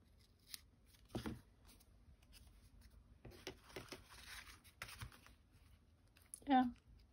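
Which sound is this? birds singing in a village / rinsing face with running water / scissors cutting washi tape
scissors cutting washi tape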